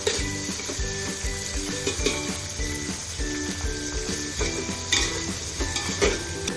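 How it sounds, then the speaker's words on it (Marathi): Onion frying in a pan with whole spices for mutton biryani, giving a continuous close sizzle with intermittent stirring clinks and scrapes of a utensil against the pan. "आता आपण कांदा चांगला मस्त परतून घेऊया."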